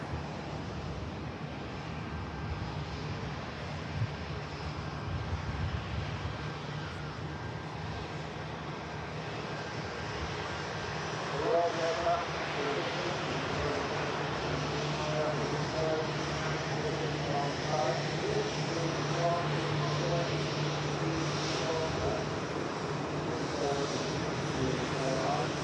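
An IndiGo Boeing 787 Dreamliner jet taxiing at Manchester Airport gives a continuous broad engine roar and whine that grows slightly louder midway, heard from outdoors over wind, with a voice talking over it at times.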